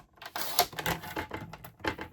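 Card stock cut down to size on a paper trimmer, a few close scraping, clicking slides and blade passes in short uneven bursts, no talk.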